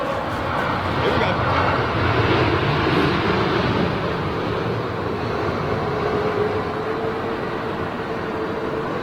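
An airliner lands at Heathrow in windy weather, its engines roaring in reverse thrust as a loud, sustained rumble heard from nearby under gusting wind, with someone talking over it.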